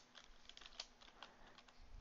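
Someone taps out words on a computer keyboard, including spacebar presses, in a quiet stretch of close, crisp keystrokes with uneven rhythm and a sharper, louder hit at the end.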